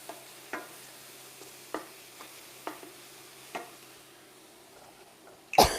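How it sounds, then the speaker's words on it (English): Steak sauce stirred in a pan at a home stove, giving soft scraping strokes in a few separate bursts over a low sizzle, ending in one louder clatter. "Let me just give this a bit of a stir."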